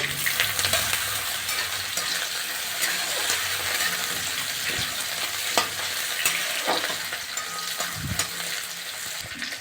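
Raw plantain pieces frying in a pan for a mixed vegetable dish, a steady close sizzle with occasional stirring scrapes and clinks throughout.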